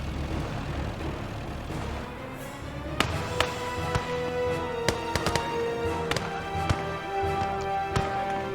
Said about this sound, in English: More rocket artillery.